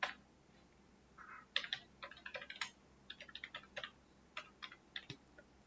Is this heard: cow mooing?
no